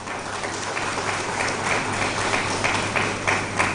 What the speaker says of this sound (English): That applause is not encouraging enough